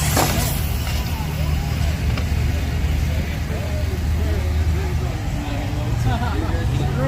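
RC cars drag racing side by side, a steady buzzing motor whine running throughout with crowd murmur and people talking over it at an outdoor track.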